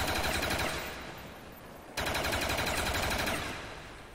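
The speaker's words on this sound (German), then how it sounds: "meinen letzten Schuss mit der RPK" Rapid automatic gunfire from an RPK machine gun rattles loudly and continuously, easing briefly before a second sustained burst, in the video game Black Ops Zombies.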